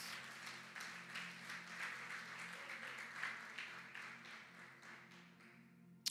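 A church congregation applauds during a Sunday family service, a soft, steady wash of many hands clapping at a distance for about six seconds, fading slightly toward the end.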